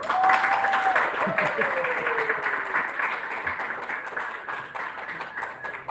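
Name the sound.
audience clapping at army retirement ceremony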